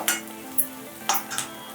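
Garlic and finely chopped green chili stirred into frying onion for paneer pav bhaji, with a soft steady sizzle under a few sharp spoon scrapes against the pan, spaced about half a second apart, close and fairly quiet.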